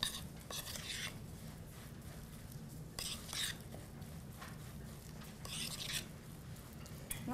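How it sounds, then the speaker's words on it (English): A spoon stirring a cookie dough mixture with chocolate chips in a bowl during a cooking demonstration, soft intermittent scraping and clinking strokes, faint and close, over a low background hum. "So we're just going to give that a stir."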